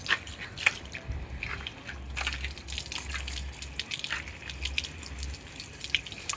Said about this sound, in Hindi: और पानी अभी भी चल ही रहा है